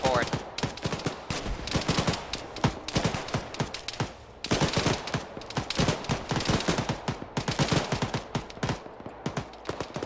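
Rapid rifle and machine-gun fire rattles back and forth in an Arma 3 Cold War Ops battle with Mujahideen forces, dense overlapping bursts and single shots at varying distances, nearly continuous apart from a brief lull.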